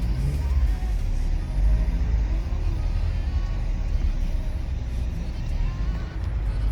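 A Honda Civic EP3 with a manual transmission drives along, its engine and road noise a steady, close low rumble that holds loud throughout with no clear gear changes.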